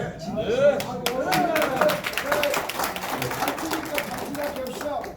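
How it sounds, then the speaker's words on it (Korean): An audience at a candidate forum for a Gwangju innovation committee claps in a burst of applause, moderately loud and sustained, while a person keeps talking over it. "다른 분들도 박수 크게 치시고"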